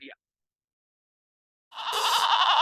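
A goat bleats once in a sound effect, a single loud wavering cry rising abruptly after near silence, preceded by a tiny brief blip.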